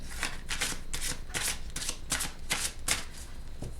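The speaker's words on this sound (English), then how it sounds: "these have all been pre-shuffled, but I'm still gonna shuffle a little bit." Wicca Oracle cards, a new-edition deck, being shuffled by hand in a steady run of crisp riffling bursts, close and fairly loud, with no voices over it.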